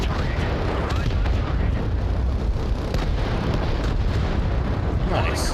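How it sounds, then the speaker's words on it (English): Artillery barrage in the war game Crossfire: Legion, an unbroken roar of overlapping explosions and booms, loud and steady throughout with sharp bursts layered on top. "Deploying supports for artillery mode. Defense matrix raised and ready. Barrage on target."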